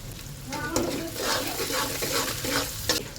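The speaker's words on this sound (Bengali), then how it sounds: "খানিকটা রসুন দিয়ে দিচ্ছি তেলের মধ্যে" Garlic and green chili hit hot oil in a pan, giving a steady close sizzle with a few clinks and scrapes of a spoon stirring through it.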